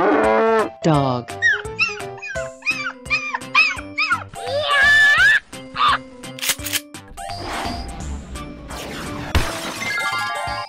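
A cartoonish dog bark sounds amid a lively mix of playful game effects, animal calls, crashes and music in a children's animal slide game. The sounds are busy and layered, with vocal and cheering bursts in between.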